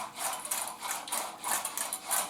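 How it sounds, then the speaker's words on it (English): Yeast is whisked by hand into a sugary mixture in a bowl for bagel dough: quick rhythmic scraping strokes, bright and close, repeating about twice a second with no voices. "I'm going to give that a little whisk around and dissolve it."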